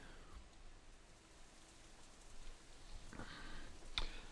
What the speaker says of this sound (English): The rain outside picks up